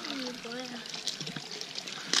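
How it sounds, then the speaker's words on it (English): Water runs steadily while hands are washed at a basin in Hiroshima, a continuous close trickle with a voice speaking over it. "So you wash your hands because they're dirty."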